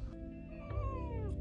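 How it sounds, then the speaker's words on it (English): A cat meows pitifully during a long car trip, one drawn-out wavering wail heard close up over a steady rumble of road and engine noise. "let out some pitiful meows"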